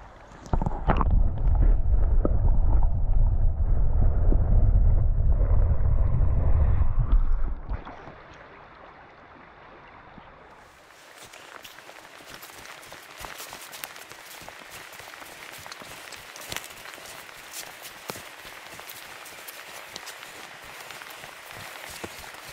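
A river rushes at a trout fishing spot at dusk, loud and roaring at first, then dropping to a softer, constant hiss of flowing water with no voices.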